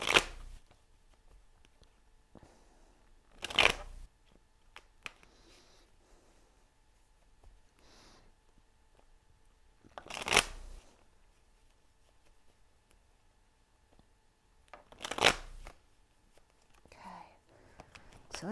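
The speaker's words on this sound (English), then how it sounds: "One more shuffle." Tarot cards are shuffled in four short, crisp riffling bursts spaced several seconds apart, close and clear against a quiet room with faint soft speech between.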